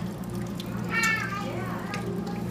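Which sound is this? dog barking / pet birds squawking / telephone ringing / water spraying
water spraying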